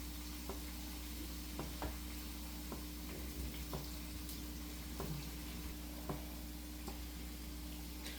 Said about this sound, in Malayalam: ഇത് നമുക്കൊരു രണ്ട് പ്രാവശ്യമായിട്ട് ഫ്രൈ ചെയ്തെടുക്കാം കേട്ടോ